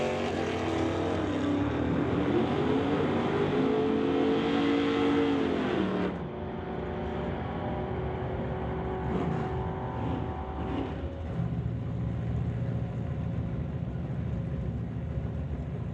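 Drag racing engines roar loud and steady as a 1970 Plymouth Duster and a Plymouth run side by side, one engine pitch climbing with rising revs before the sound drops to a sustained lower drone.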